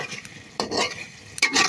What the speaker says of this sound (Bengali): একটা আলু আর মাংস একসাথে করে কষিয়ে নিব।